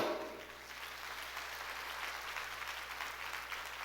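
A church congregation claps together during a Korean sermon, a steady dense wash of applause filling the room at an even level, with no voices standing out.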